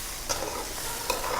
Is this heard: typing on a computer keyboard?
no